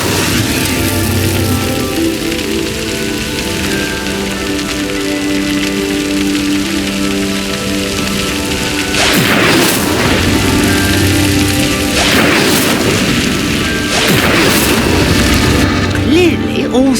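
Incendio fire spell cast in Hogwarts Legacy to light pyres, heard as a few whooshing bursts of flame that flare up over a steady game ambience and music bed.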